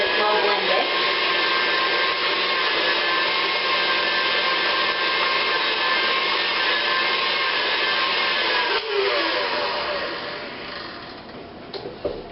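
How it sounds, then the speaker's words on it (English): An electric mixer runs steadily at close range, blending a chocolate peanut butter mixture in a continuous whirring drone; the motor shifts briefly near the end and then fades out as the mixing stops. "One more mix, just to make sure that it's well blended."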